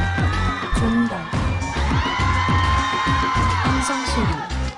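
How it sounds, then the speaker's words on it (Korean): Crowd cheering played as a sound effect in a school lecture, evoking the lights-up opening of a music concert: loud, sustained whoops and yells from a large audience over pounding low beats, continuous throughout. "함성 소리 올라갑니다"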